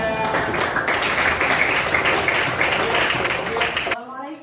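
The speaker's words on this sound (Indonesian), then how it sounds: "Tepuk tangan untuk semuanya." Applause at a school academic supervision coaching session, a loud, dense burst of clapping that carries on for about four seconds before cutting off abruptly into near silence.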